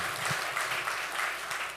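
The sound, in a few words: audience applause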